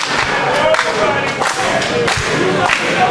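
Hyped wrestling crowd at a Warriors of Wrestling show in Staten Island, steady loud cheering and clapping with thuds from the ring and a commentator talking over it.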